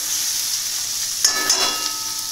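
Spice paste frying in a pan for a bean curry with roasted sesame gives a steady, close, bright sizzle, broken briefly by a couple of soft stirring scrapes.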